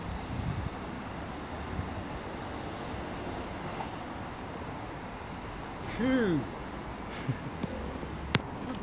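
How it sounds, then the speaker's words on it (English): A three-car Turbostar diesel train arriving at Cheltenham Spa station on a Cardiff Central to Nottingham cross-country service, its steady rumble carrying through the station with a brief squeal of wheels near the end. "now coming in is a 12:55 cross-country service from Cardiff Central to Nottingham. Worked by a Turbo Star"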